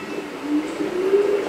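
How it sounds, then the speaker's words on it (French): Trams run through a city in the Traffic Giant video game, a low rumbling rail hum with faint squeals rising over it, steady and moderately loud. "Les tramways sont là."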